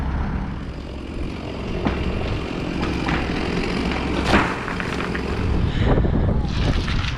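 Gusty wind buffets the microphone high in a treetop during an arborist's tree removal job, a steady broadband rush with a few stronger gusts and no speech.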